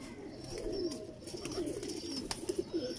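Large pigeon cooing, repeated soft low coos in a close, quiet setting, with faint clicks and rustles around them.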